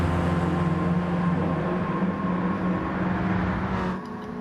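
Racing engines in Gran Turismo 7 during a Mk1 Golf race that includes a small Alfa, a dense sustained buzzing drone with steady harmonic whine that holds loud throughout and drops slightly at the end.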